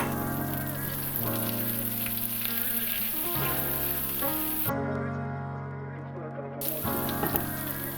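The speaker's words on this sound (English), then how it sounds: "The seeds are popping and the ginger is getting brown." Mustard-type seeds and organic fresh ginger with the skin on fry in hot oil for an Ayurvedic dish, giving a steady, close sizzle with scattered crackling pops throughout.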